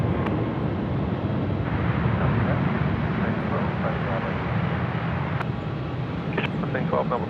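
A Qantas jet airliner at Melbourne airport gives off a continuous broad roar of engine noise that stays loud and steady, heard from the airfield's edge with a voice talking over it.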